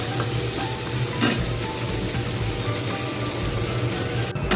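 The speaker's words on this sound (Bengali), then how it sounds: "পেঁয়াজগুলো ভাজা হয়ে গেছে" Onions fry in hot oil in a wok with a loud, continuous close sizzle, a brief splash or stirring burst partway through and a short clatter at the end.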